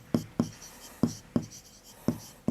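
Chalk or marker strokes tap and scrape on a classroom board in six short, sharp, evenly spaced hits, close and clear with nothing else around them.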